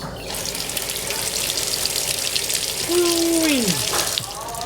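A bathroom shower runs during a renovation, with a steady loud rush of water and a brief rising then falling pipe whine partway through.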